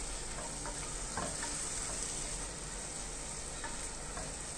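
Tomatoes with salt sauté in a pan for a beetroot kurma, giving a steady, dense sizzling hiss with faint stirring clicks throughout. The sound is close and even, with no voices.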